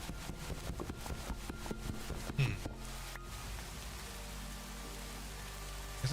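Rain falls steadily in the Minecraft video game, a soft continuous patter with a few faint knocks, heard alone throughout.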